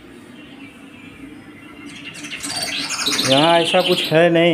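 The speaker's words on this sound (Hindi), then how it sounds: "देखो चहचहाने की जो आवाज़ आ रही है ना, ये म्यूजिक है।" Recorded bird chirping played as jungle ambience at an indoor jungle-safari themed place, with bright twittering calls rising and growing louder toward the end while someone speaks Hindi over it.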